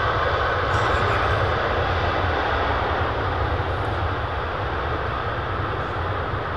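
Jet airliner at Miami airport producing a loud, continuous broadband engine roar with heavy low rumble, steady throughout and heard alone without talk.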